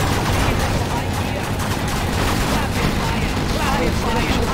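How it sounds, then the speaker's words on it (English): Rapid machine gun fire from a unit in C&C Generals Zero Hour, a dense, continuous rattle of bursts layered with battlefield explosions and game noise throughout, with unit voice lines mixed in. "Rapid fire."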